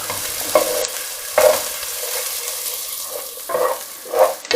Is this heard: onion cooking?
yes